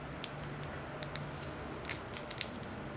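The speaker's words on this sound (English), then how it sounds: "I can simply score the edge" A razor blade or scissors scores the edge of foam board for a hobby glider build: a handful of faint, short, crisp scratching clicks, scattered irregularly and growing denser toward the end, over quiet room tone.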